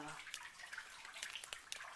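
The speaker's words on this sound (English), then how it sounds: "the falling water is everywhere. Flooded." Falling water across a flooded area outdoors, a faint steady splashing and trickling wash with scattered drips and small splashes throughout.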